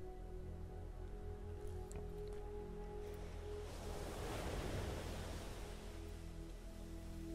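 Soft ocean waves wash in slowly, with one swell building and fading midway, heard faint and distant over a low, steady hum.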